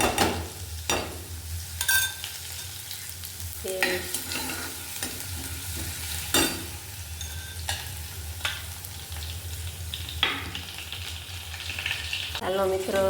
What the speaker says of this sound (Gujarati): રગડો વઘારી લીધો છે। વઘારમાં જીરું નાખ્યું હતું, લસણની પેસ્ટ